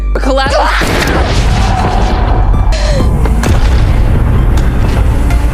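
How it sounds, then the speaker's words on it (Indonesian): Gunfire in a revenge film about a hired assassin: a loud shot bursts out near the start, and a dense, booming, rumbling action soundtrack runs underneath throughout. "Annie pun menembak Cat"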